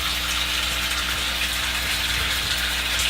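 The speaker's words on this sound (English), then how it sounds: "It's really noisy inside anyways, the water's splashing." Water splashes and gushes steadily inside a mostly buried aquaponics sump tank with heavy aeration, a constant close rushing wash with no voices.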